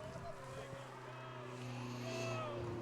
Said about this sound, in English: Race car going by us back here.